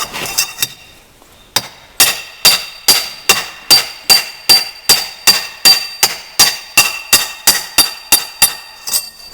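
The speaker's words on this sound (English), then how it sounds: "A few taps with that to get it started, so the seal is holding itself nice and straight." A hammer taps a seal into a Troy-Bilt transmission casing in a long series of sharp metallic knocks at a steady rhythm, close and loud, after a few scattered taps at the start.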